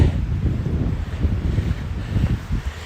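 Strong wind buffets steadily through a burned area of dead trees on a mountain, a continuous low rumbling roar without pause.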